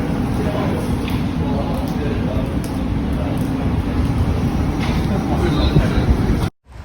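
A passenger train near Brockenhurst in England runs with a steady low rumble heard from inside the carriage, a loud constant drone that cuts off abruptly at the end.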